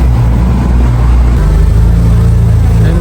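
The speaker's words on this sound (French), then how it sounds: "Écoute-moi le bruit de la ligne." A frozen-black BMW M4 G82 facelift coupé on a Los Angeles street gives a steady, loud, deep exhaust rumble that rises slightly in pitch partway through, close to the listener.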